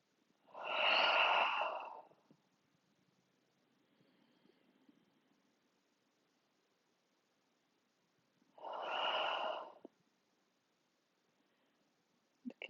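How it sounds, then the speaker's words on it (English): Two deep, audible breaths during a guided yoga session in humble warrior pose, each a loud breathy exhale lasting about a second, separated by several seconds of near silence. "inhale through your nose and exhale, sigh your breath away"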